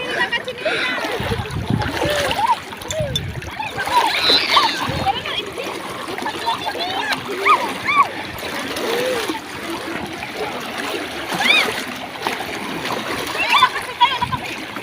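Strong river current rushing and splashing, a loud continuous churning wash with bursts of spray close by, while people talk over it throughout.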